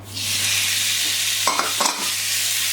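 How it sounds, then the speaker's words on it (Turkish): Beef strips hitting a smoking-hot pan for a Chinese-style stir-fry sizzle loudly and steadily, with a couple of brief clattering stirs of the meat near the end and no talking. "Evet dumanlar çıkmaya başladı. Hemen eti ekliyorum."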